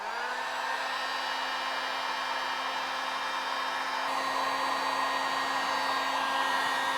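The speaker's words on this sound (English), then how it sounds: "we're going to go ahead and use the heat gun to dry this paint" Heat gun blowing hot air to dry paint on a plastic repair, a steady loud whirring hiss with a constant motor whine that runs unbroken from start to finish, with no talk.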